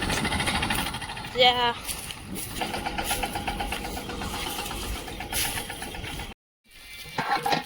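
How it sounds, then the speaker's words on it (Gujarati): A tractor engine idles with a knocking chug while onions are unloaded on a farm, with people talking over it. The sound cuts out briefly near the end and then returns. "તમે જો અત્યારે ટ્રેક્ટર ઠલવે છે ઓલી ડુંગળી"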